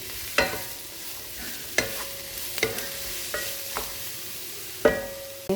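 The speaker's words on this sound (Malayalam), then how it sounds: "പച്ചമുളക്, ഉള്ളിയും കൊച്ചുള്ളി ഇത് നന്നായിട്ട് വഴറ്റിയെടുക്കാം." Green chilies, onion and shallots being sautéed in a pan, with several distinct stirring scrapes and clatters over a steady low sizzle, close and moderately loud, no voices.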